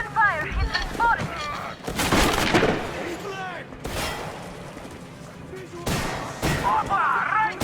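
Gunfire in Metro Exodus, a video game, comes as several loud bursts of shots separated by short pauses, with in-game voices speaking between the volleys.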